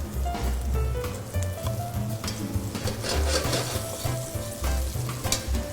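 Guanciale fries in its rendered fat in a pan, a close continuous sizzle with repeated scraping and stirring strokes, heard alone without talk.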